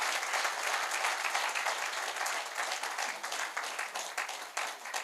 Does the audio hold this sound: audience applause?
yes